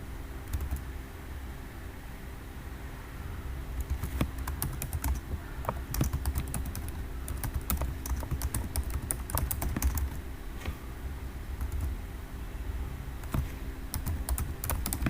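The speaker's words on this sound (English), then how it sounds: "The second I am typing now." Steady typing on a computer keyboard, the rapid clicking keystrokes close and continuous over a low background hum, with no one talking.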